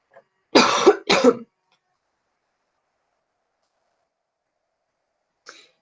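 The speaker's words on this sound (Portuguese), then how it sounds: "tinha que tossir" A teacher gives two sharp coughs close up during a class lesson, then near silence with a faint noise at the end.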